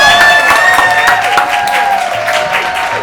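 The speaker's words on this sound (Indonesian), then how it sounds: "Tepuk tangan untuk Bapak." A studio audience breaks into loud, sustained applause with scattered cheers as a guest is called onstage at an Indonesian talk show, the clapping dense and close and fading slightly over three seconds.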